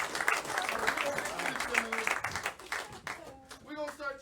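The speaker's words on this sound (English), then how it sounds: "How about a hand for this young man?" A comedy show audience applauds a young man from the crowd, a short burst of clapping and cheering that tapers off as a voice starts speaking over it.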